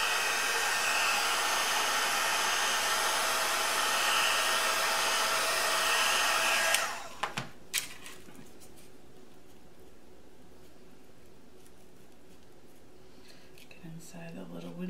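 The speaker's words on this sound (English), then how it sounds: "I'm going to take my heat gun and dry it up a little bit here" Heat gun drying a wooden ornament house, a loud steady blowing roar for about seven seconds that then cuts off, followed by a few small knocks and quiet handling.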